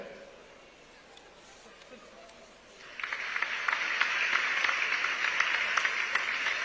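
Audience applause at a state-level workers' conference in Raipur, beginning quietly then swelling into loud, sustained clapping from a large crowd that continues to the end.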